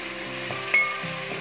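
Sliced onion dropped into hot coconut oil for a beef vindaloo sizzles in a steady, soft hiss, with a brief louder crackle partway through the short stretch.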